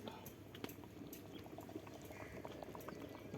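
Country chicken biryani boiling in a pot, a close, steady bubbling and popping with faint crackle throughout, quiet and continuous.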